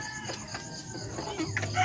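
Chickens cluck nearby in short, throaty calls over a noisy outdoor background.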